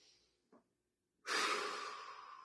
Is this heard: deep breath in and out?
yes